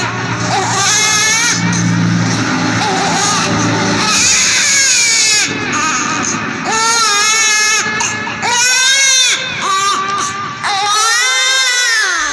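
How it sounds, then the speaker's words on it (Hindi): An infant cries loudly and insistently beside a riverbank, wailing in repeated rising and falling sobs with brief breaths between, close and dominant throughout. "कोई बच्चा रो रहा है।"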